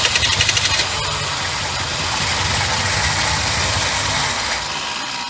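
The engine of a 1976 Ford F150 abandoned for over 30 years runs on gas, starting with a few quick chugs and then settling into a loud, steady, rough idle close by that eases off near the end.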